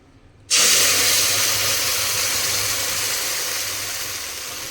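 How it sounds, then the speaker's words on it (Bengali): Coriander leaf paste hits hot mustard oil in a wok with a sudden loud, hissing sizzle that starts abruptly and then slowly fades, with no voices. "এরপর কড়াইয়ে সর্ষের তেল গরম করে তার মধ্যে দিয়ে দেব এই পেস্টটা।"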